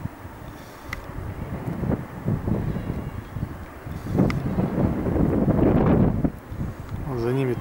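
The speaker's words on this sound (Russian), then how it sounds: "Камера трясется, ветер такой." Wind buffets a camera microphone outdoors on the island of Tenerife in the Canary Islands, a rumbling, uneven roar that swells and fades throughout, with a voice talking over it.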